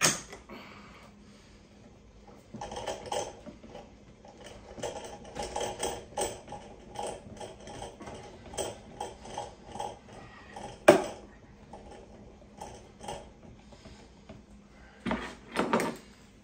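Clamps being cranked down on a rawhide-backed Osage longbow stave, a series of quiet scraping, creaking and clicking turns spread over time, with one sharp knock and a louder burst near the end.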